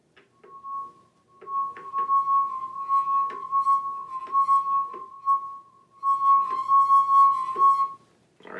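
A wet fingertip circles a wine glass rim, drawing out a sustained pure ringing tone that swells and fades, with faint rubbing squeaks and clinks.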